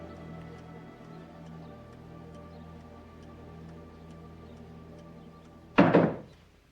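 A single knock thuds against a college room door, one sharp, loud impact near the end after a quiet stretch of low room tone.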